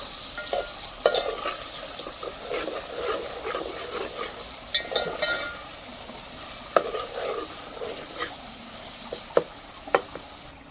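Onions and garlic fry in a pot over a wood-fired stove, giving a continuous soft sizzle with scattered sharp clicks and scrapes as the mixture is stirred.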